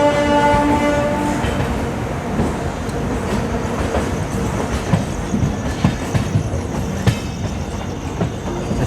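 Yesvantpur Howrah AC Express rolling through a busy station, a loud steady rumble with clickety-clack of wheels over rail joints and a brief horn tone at the start, heard close and continuous.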